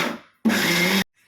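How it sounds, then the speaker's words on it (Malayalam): A mixer grinder jar crushing shallots, garlic and cumin fires in one loud, close, whirring burst of about half a second, then cuts off abruptly into silence. "മിക്സിയുടെ ജാറിലൊരു ചെറിയ രണ്ട് പ്രാവശ്യം ഒന്ന് ക്രഷ് ചെയ്തെടുത്താൽ മാത്രം മതി"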